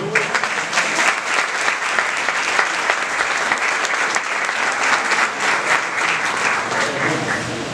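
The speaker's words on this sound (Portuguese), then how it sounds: "Vamos aplaudir o Senhor." Congregation applauding the Lord at a Portuguese-language church service marking a 50th anniversary, a broad, even clatter of many hands in a large room, strong and unbroken for the whole stretch.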